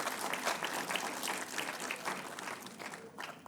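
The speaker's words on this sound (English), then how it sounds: "So a big round of applause to GCI." A hall audience at a session with a senior advocate gives a round of applause, dense continuous clapping from many hands that tapers slightly toward the end, heard fairly distant.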